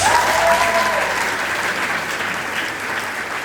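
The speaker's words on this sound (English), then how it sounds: "Give yourselves a round of applause." A crowd of medical graduates claps steadily at a graduation ceremony, with dense applause fading slightly over a few seconds.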